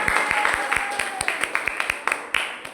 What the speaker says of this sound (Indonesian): kita apresiasi dengan tepuk tangan